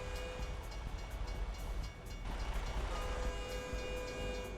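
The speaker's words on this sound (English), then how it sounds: "Is that the train or is that the car?" A train rumbles past outside behind someone streaming a game, a steady low roar with a faint horn-like tone, fairly quiet and continuous throughout.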